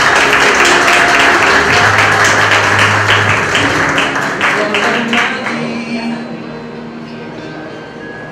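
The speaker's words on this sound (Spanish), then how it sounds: "El aplauso para Naomi." Sustained audience applause for Naomi as she is called forward in a quinceañera procession, a loud, dense wash of clapping that slowly thins and fades over several seconds.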